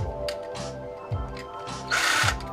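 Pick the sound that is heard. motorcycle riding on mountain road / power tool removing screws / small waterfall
power tool removing screws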